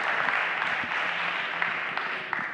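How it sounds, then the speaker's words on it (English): Audience applause fills a conference hall, a dense steady patter of many hands clapping at moderate volume throughout. "Everyone, big round of applause for Chris."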